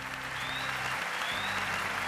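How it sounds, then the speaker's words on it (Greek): Audience applause fills a TV talent show stage on The Voice of Greece, a steady dense clapping throughout with a faint crowd murmur beneath. "Ένα δαστό χειροκρότημα, Ζόζεφιν."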